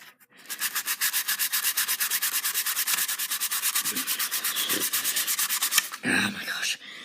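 Rapid, rhythmic back-and-forth sanding on a Nerf Mega Magnus blaster being modded as a golden gun, loud and close with steady strokes for about six seconds, then a brief rustle.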